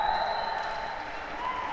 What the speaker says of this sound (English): what are they cheering about?